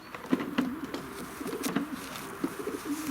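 A racing pigeon in a loft gives several soft, low coos close by, with faint rustling between calls and no speech.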